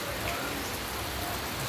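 Heavy rain pours steadily at a loud, even level, a dense hiss of drops hitting surfaces with no break.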